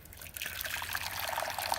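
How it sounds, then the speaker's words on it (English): Boiling water trickles and pours steadily into a container during case preparation, a close, continuous splashing stream with no talk over it. "We put a bit of our boiling water in here."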